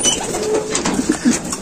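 Racing pigeons coo softly in a loft during a race return, a few low murmuring calls rising near the end over steady outdoor background noise.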